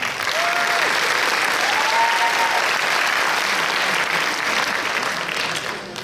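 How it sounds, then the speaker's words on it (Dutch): Sustained audience applause at a Miss Fashion 2020 event, a thick, even wash of clapping that holds loud and steady for several seconds before easing slightly at the end. "Graag uw applaus"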